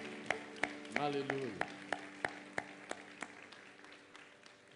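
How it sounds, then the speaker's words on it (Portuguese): A church congregation claps in sharp, evenly spaced single beats during a Portuguese-language service, like rhythmic applause, fairly faint and slowing slightly. A voice briefly calls out early on. "Vamos aplaudir ao Senhor uma vez mais."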